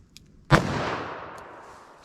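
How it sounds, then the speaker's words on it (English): A single .357 Magnum shot firing a 125-grain semi-jacketed hollow point round, a sharp loud crack with a long decaying echo trailing after it, alone without talk. "let's hit that with our 357 mag 125 grain semi-jacketed hollow point"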